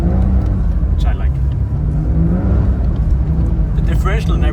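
Porsche 992 Dakar pushing through deep snow, a steady loud engine rumble with slight revving surges, heard close and continuous throughout.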